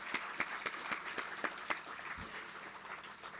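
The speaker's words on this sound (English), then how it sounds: "let's give them a round of applause" Audience at a university Veterans Day ceremony breaks into applause, opening with a few distinct sharp claps that blend into a steady, moderately distant wash of clapping from the crowd.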